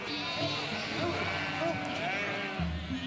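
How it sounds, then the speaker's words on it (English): Camden Merino sheep, a small, hardy, timid breed, bleat several times in short repeated calls over continuous talk and background noise. "it began with an animal like this, a small, hardy, timid breed of sheep"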